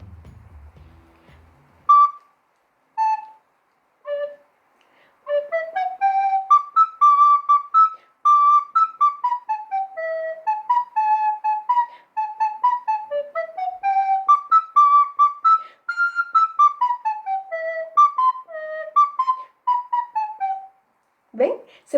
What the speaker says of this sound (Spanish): De acuerdo a su forma y a su material, la flauta suena así.